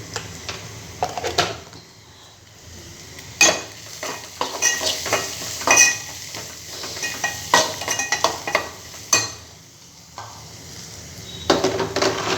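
Food fries in a pan as ginger and turmeric are added, with steady sizzling under repeated clinks and scrapes of a stirring spoon against the pan.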